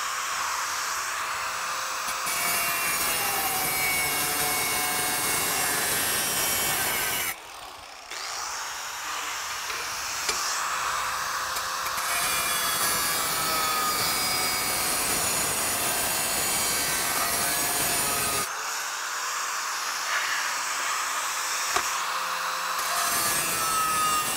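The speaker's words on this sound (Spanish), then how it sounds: "cuando estoy cortando de esta manera, en realidad estoy cortando el material del interior de la piedra" A cutting tool grinds through tile or stone in a loud continuous rasping whine, with two short pauses where the blade lifts away before resuming.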